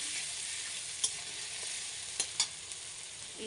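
Spices with chopped green chili and tomato frying in oil for a pabda fish curry, an even, quiet sizzle with a few small sharp clicks from stirring.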